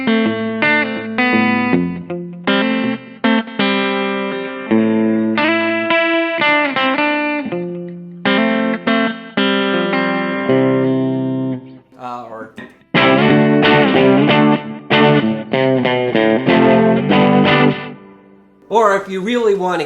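A Gretsch Electromatic G5420 hollow-body electric guitar played with heavy distortion, strummed chords and ringing riffs in a gritty early-1970s rock tone, loud and continuous with brief gaps.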